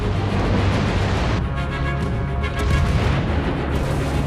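Battleship naval gunfire salvos in the Battle of Dogger Bank between German and British fleets: a loud, continuous wall of deep booming rumble that swells and rolls without pause, heavy and enveloping.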